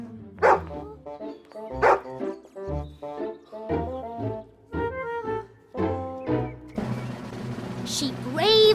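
Small Chihuahua barking in short sharp yips, several bursts spread through the clip amid music and a cartoon voice, with louder bright noise near the end.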